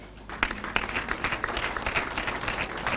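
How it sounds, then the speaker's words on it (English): Students in a campus gathering clap for standing staff members, a dense, steady applause of many hands with scattered sharper claps, moderately close and continuing throughout with no talk over it. "Stand up and the students clap for you."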